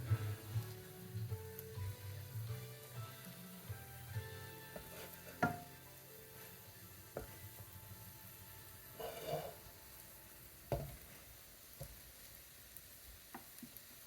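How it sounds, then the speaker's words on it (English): Soft, steady sizzling of French toast frying in a pan at low heat, with occasional sharp clicks and clatters of a utensil against the pan. "Get a nice little bit of sizzling noise to it as well"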